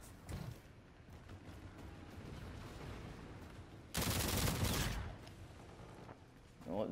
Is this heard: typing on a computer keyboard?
no